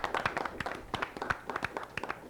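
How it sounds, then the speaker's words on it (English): A small group of people, players and audience at a quiz-bowl style school competition, gives a brief round of applause, with uneven, fairly close hand claps that patter for a couple of seconds. "Give yourselves a round of applause."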